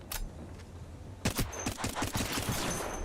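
Gunfire in the Apex Legends shooter: one quick shot, then a fast burst of automatic fire at moderate distance, sharp cracks in rapid rhythm.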